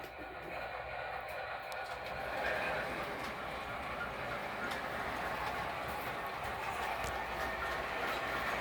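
An MTH model train engine runs along its track with a steady, fairly faint rumble and whir. The texture holds throughout, with slight shifts in intensity and no voices.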